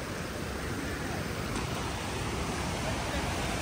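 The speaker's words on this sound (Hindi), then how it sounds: "क्या झरना है भैया।" A hidden waterfall reached on a road trip, heard as a steady, broadband rushing roar of falling water, constant and unbroken throughout, with no talk over it.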